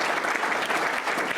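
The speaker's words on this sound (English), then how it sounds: "Round of applause for Rick." A full room applauds a social services agency leader at an Illinois forum, with thick, continuous clapping from many hands at an even loudness through the whole short burst.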